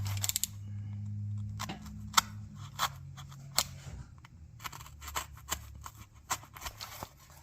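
Scissors snipping through a cardboard box during a car screen install: a run of sharp, close clicks and crunchy cuts at irregular intervals over a low steady hum.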